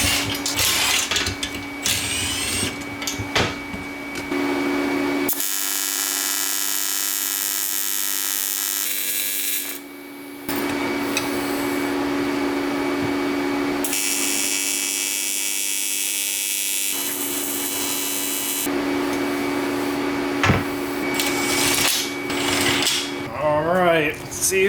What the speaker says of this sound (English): So I'm gonna have to throw a weld on that to give us a little bead.